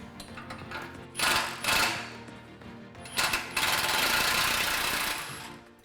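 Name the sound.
removing 15mm muffler bolt on Jeep Wrangler exhaust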